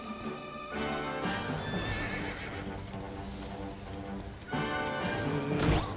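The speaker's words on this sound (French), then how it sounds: "On va y aller à cheval" A horse in the video game Dragon Quest XI whinnies loudly, followed by rhythmic clip-clop hoofbeats, then a second neigh near the end.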